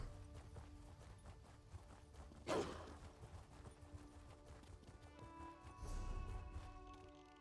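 Horse hooves clip-clopping in The Elder Scrolls Online, a soft steady trot under game music with a sharp crash near the middle.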